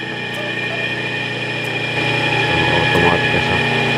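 Small electric motor fitted with a new capacitor starting and running steadily, a constant mid-pitched hum with a slight rise in level partway through, heard alone at close range.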